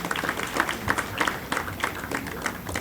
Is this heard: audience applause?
yes